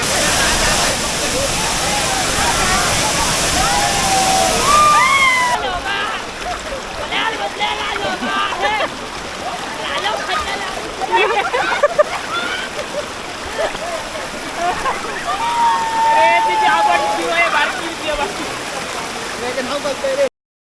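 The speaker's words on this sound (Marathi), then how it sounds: "तर सध्या आम्ही इलो असो कणकवलीच्या सावडाव धबधब्यात सगळी आमची गॅंग" Savdav waterfall at Kankavli in Sindhudurg roars with a constant, loud wash of rushing water close by, while someone talks over it throughout.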